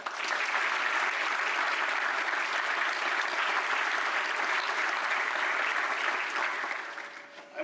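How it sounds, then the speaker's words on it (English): Sustained audience applause at a university honors convocation for graduate and continuing studies students, a dense, steady wash of clapping from a large crowd that holds evenly for several seconds before tapering at the end. "Please join me in a round of applause for all of our outstanding students"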